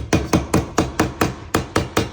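A hammer drives a Radd Raxx rack bracket into place with nine evenly spaced, loud, close metallic strikes in a quick steady rhythm.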